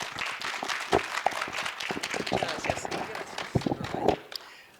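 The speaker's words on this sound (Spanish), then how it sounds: "Recibámoslo con un fuertísimo aplauso." A crowd applauds with scattered, irregular clapping, moderately loud and close, rising and thinning over a few seconds.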